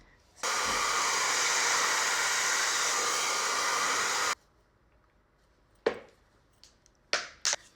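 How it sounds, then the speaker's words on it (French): Hair dryer fitted with a diffuser nozzle blowing on a wig, a loud steady whoosh for about four seconds that cuts off abruptly, followed by a few brief sharp handling clicks. "On va prendre l'embout qui va réduire. Et c'est incroyable, tu peux le baisser comme ça. Et ça devient genre un séchoir."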